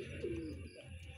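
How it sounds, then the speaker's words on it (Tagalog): Homing pigeons back from the first lap of a derby race in Lucban, Quezon, give one short, low coo close by over a steady low background hum. "Ayun yung mga kalapatid yung ating pauwi."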